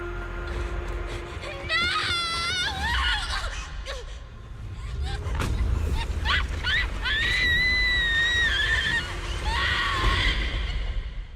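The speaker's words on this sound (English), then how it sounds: "That's a good scream." A character in the video game Zenless Zone Zero lets out strained, pitched screams and gasps, rising and wavering cries in a few bursts over game sound and other voices.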